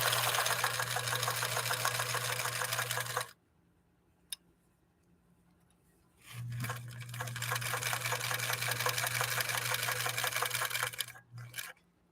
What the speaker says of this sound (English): we're going to lay down a zigzag on these 2 layers of Naugahyde first